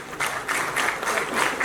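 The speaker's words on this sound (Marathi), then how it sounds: "तुमच्यासाठीच्या जोरदार टाळ्या मी आधीच वाजवून घेतल्या" A large crowd applauds as composer duo Ajay-Atul come on stage at a Marathi film trailer launch event, with dense, steady clapping and a few louder bursts.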